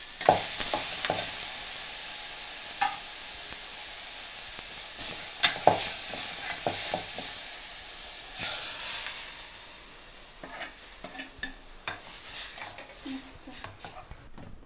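Sweet dal cooking in a home kitchen in the Konkan, a soft hiss of frying with scattered scrapes and clinks of stirring, faint and close, with quiet background talk.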